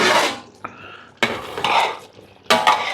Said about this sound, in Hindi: एक दफ़ा हिला के इसको ज़रा मिक्स होने के लिए रख दीजिए